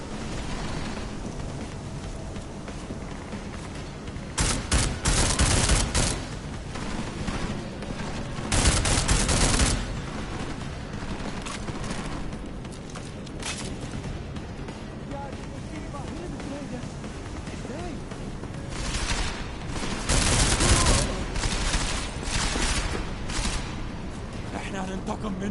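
Gunfire with heavy recoil in Deus Ex: Mankind Divided crackles in several dense bursts spread across the stretch, over a steady background din.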